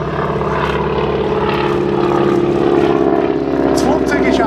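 A propeller aircraft flies a display at the 2018 Dittingen airshow during a wingwalking act, its engine a steady, loud drone with a rising swell toward the end, with an announcer's voice faintly beneath.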